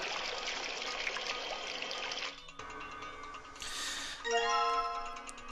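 Water gushing and trickling as containers are filled in the puzzle game Virtue's Last Reward, a steady pour giving way to a brief chime and tonal game effects near the end.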